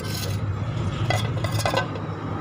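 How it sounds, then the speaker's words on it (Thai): A knife slices through grilled pork for Thai larb moo yang, making steady scraping and clattering against a cutting board, close up with no talking. "ผมมาเดี๋ยวจะหั่นหมูก่อนนะครับ"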